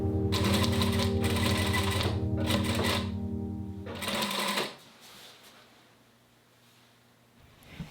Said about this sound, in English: stitch your stocking bottom piece to the bottom of the quilt block along the edge